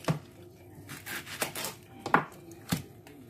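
Onion going into zucchini and carrot in a cooking pan, heard as a few close, irregular scrapes, taps and rustles of utensils and vegetables against the pot, fairly quiet with no talk.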